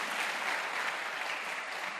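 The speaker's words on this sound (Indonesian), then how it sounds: "Aplaus ya untuk Anda semua." A seminar audience applauds steadily, a dense wash of many hands clapping at moderate distance that holds evenly throughout without pause.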